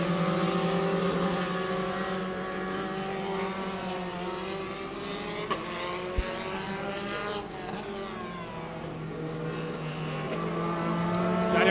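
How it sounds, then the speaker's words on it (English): Formula 4 single-seater race cars at a Southeast Asia championship race, one engine note rising and falling as cars pass through the last corner, steady mid-distance whine with shifting pitch, no talk. "Daniel Chow coming around the last corner."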